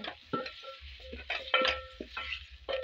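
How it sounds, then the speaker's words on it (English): Tomatoes fry in oil while a wooden cooking stick stirs them, giving soft scrapes and clicks against the pot over a low sizzle, in uneven strokes. "You add the tomatoes into the oil and you stir using a cooking stick"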